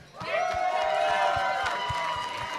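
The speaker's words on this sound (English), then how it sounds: "Who's cheering for the Red Alliance?" Spectators at a Wisconsin FTC Rover Ruckus robotics championship cheer for the Red Alliance with a sustained wave of high-pitched screams and shouts, loud and steady for a couple of seconds before easing slightly.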